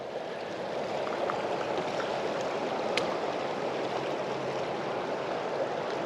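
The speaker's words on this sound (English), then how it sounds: "That water is flowing fast. Like, that is a ton of water." Fast, heavy river water rushes steadily past at a campsite creek, heard up close from someone standing in the current, a loud unbroken roar with no talking.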